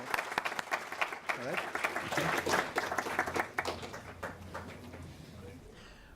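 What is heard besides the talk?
audience applause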